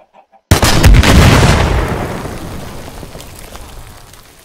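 A grenade fired from a gun in the BlockFront WW2 Minecraft mod goes off as one sudden, loud blast, followed by a long rumbling decay that fades out over several seconds.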